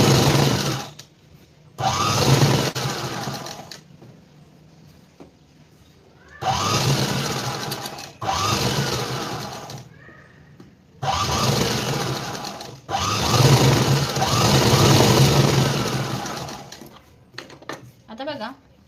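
A sewing machine stitches a seam in bursts of fast whirring, several runs separated by short pauses, close and fairly loud with no talk.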